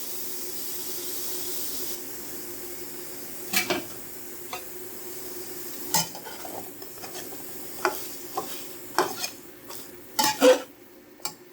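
Chicken alfredo stirred in a pan, with scattered scraping and clinking of a utensil against the cookware over a steady low hiss of simmering, the strokes coming irregularly and growing busier toward the end.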